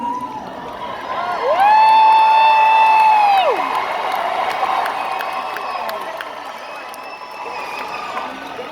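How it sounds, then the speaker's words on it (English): Concert crowd at a show cheering and clapping, a broad, roaring wash of noise with a loud, sustained whistle rising above it early on, then the cheering continuing at a slightly lower level. "when I say my age, people always clap"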